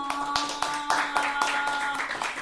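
Sharp hand claps from a talk-show studio audience, a few separate, irregular bursts over a steady tone, with some talk mixed in.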